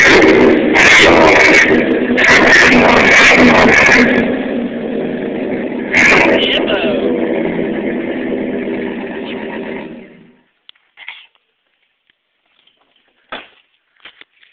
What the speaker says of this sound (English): Here's the old exhaust.